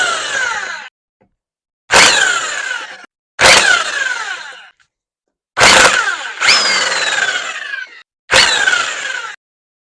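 An impact wrench with a chrome socket hammers loose the fender bolts on a 2000 Harley-Davidson Sportster in five or six loud, close bursts, each about a second long, separated by short silences.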